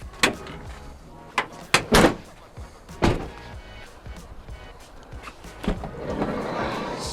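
The left-hand sliding side door of a Ford Transit van, fitted out for a timber flooring specialist, is worked with several sharp clunks and thuds, then a rolling slide and latch toward the end, fairly close with no talk.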